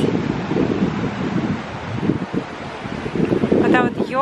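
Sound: wind blowing

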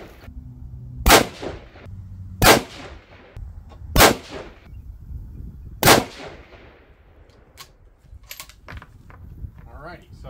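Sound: rifle gunfire at the shooting range, 6mm ARC

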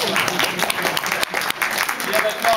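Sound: audience clapping hands

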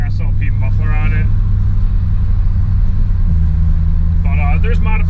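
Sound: 2000 Trans Am engine with SLP airbox and exhaust

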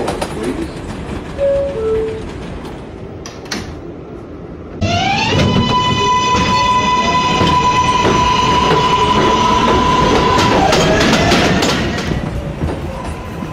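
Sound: New York subway 7 local train running

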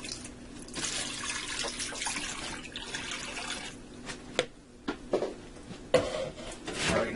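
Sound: pouring water into a pot

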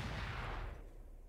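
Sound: shaped charge HEAT weapon shots in a video game

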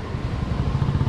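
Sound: motorbikes passing on a Pokhara street

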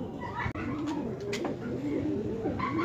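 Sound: pigeons cooing

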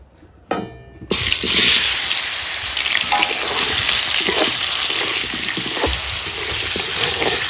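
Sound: potatoes frying in hot oil

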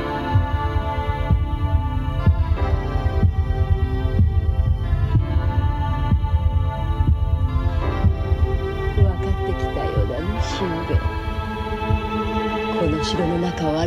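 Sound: heartbeat sound effect in film

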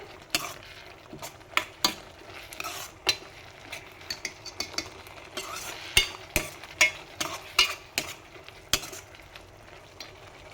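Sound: stirring garam masala powder into palak rice in a pan

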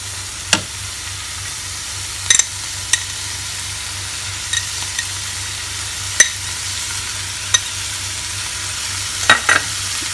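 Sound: stirring cauliflower with herbs sizzling in a pan

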